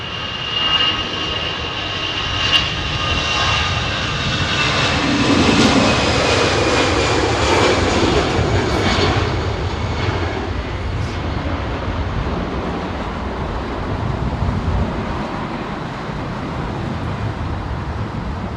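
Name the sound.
Boeing 777-200LR aircraft arriving at London Heathrow in wind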